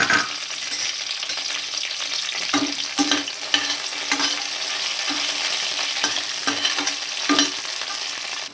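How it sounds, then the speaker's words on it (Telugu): Green chilies fry in about three tablespoons of hot oil in a pan for tomato chutney, a steady close sizzle broken by repeated stirring scrapes and clinks throughout. "నూనె వేడైన తర్వాత పచ్చిమిర్చి వేసుకోవాలి."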